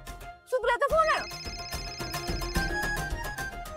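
An incoming call sets a phone ringtone playing, a bright repeating melodic tune that starts right after a brief voice and carries on steadily for several seconds.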